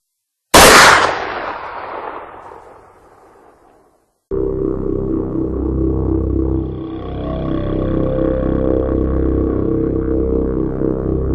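A single loud gunshot cracks sharply and rings off in a long decaying tail, followed after a brief silence by a steady low droning rumble that swells slightly toward the end.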